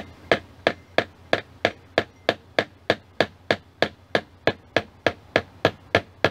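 Steady hammer strikes drive 1.5 to 2 inch finishing nails into fence picket wood, about sixteen sharp, even, close-up blows at roughly two or three per second, no talking.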